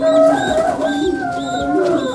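Racing pigeons coo from a loft, soft throaty calls repeating in a rhythmic rolling pattern, close by and alone.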